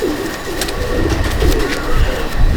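Rampuri pigeons coo in a loft, with close, repeated low throaty coos rolling in a steady rhythm.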